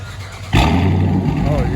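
A 2019 Dodge Charger R/T with a 5.7 Hemi and deleted mufflers cranks and fires up abruptly, settling into a loud, rumbling idle close by.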